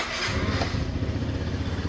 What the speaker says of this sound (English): I'll show you how easy these things start here.